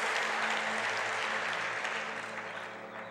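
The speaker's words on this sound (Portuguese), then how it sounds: "Pode dar uma salva de palmas" A church congregation claps during a sermon, a dense, steady round of applause that holds strong and tapers slightly toward the end.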